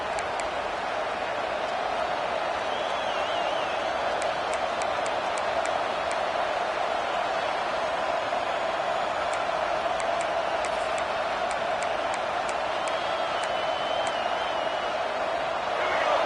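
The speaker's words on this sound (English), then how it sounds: "The roar of the crowd trying to fuel this defense to keep them pinned in their own end." Steady roar of a football stadium crowd at a Florida State vs Michigan game, a loud continuous wash of noise that holds level throughout with faint sharper bursts on top.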